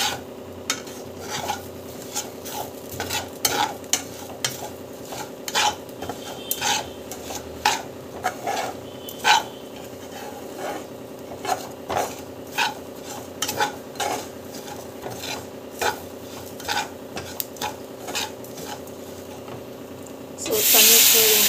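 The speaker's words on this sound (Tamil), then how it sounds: "நல்லா வந்து வறுத்துக்கோங்க." Semolina roasting for upma in a pan, stirred with a spoon that clinks and scrapes against the metal in a steady rhythm over a low background hum, close and clear.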